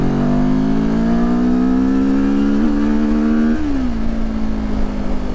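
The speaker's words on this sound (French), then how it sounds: "Voilà, l'accélération au deuxième" A derestricted Benelli TRK 702 motorcycle engine pulls hard in second gear. It gives a loud, close, steady drone that climbs in pitch, then eases off slightly toward the end.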